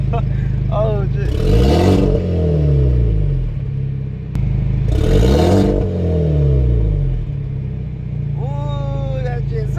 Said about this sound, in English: I'm scared to rev my car